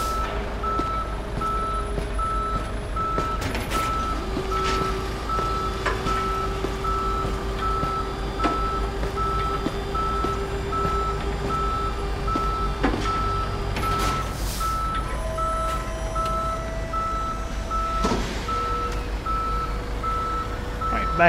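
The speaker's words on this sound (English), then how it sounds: "tow truck is picking up the car" Steady electronic reversing beeps from a tow truck picking up a car in the Police Simulator video game, a continuous repeating tone with engine rumble and a few other tones and clunks mixed in.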